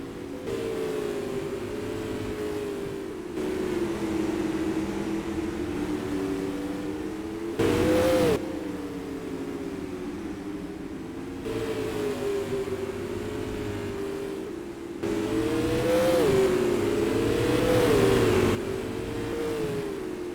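Supermodified race cars in a sim racing game at Star Speedway roar past in repeated waves, engines droning and rising in pitch as each pack goes by, loud and continuous.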